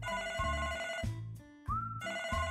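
A telephone rings in a home with a bright, melodic ringtone that repeats in short pulsing bursts. It plays alone and fairly clearly, with no talking.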